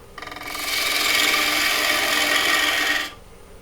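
A lathe chisel cuts lightly into spinning wood, making a steady, close, broadband rasping scrape that swells in, holds for about two and a half seconds, then stops cleanly.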